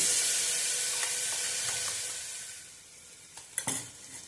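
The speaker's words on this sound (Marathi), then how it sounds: "हे वाटण आपण छान असं परतून घेणार आहोत।" Green masala paste with a pinch of asafoetida and turmeric being sautéed in a pan, a steady soft sizzle with faint stirring scrapes and a couple of sharper utensil clinks near the end.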